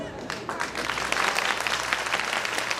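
Women in the audience at a live comedy show clap together in a dense, lively burst of applause that carries on steadily from start to finish.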